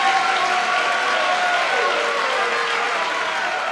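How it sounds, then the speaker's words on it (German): A studio audience at a comedy show breaks into dense, sustained applause, loud and even throughout with a faint voice beneath. "Ich denke, das ist doch einmal einen donnernden Applaus wert,"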